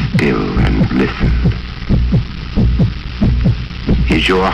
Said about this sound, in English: You are experiencing the heartbeat of a dying man.